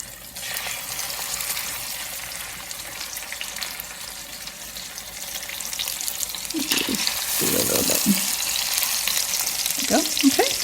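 Salmon sizzling in a pan with soy sauce, a steady close frying hiss that swells louder toward the end, with a few brief clatters and stirring sounds and faint speech in the background.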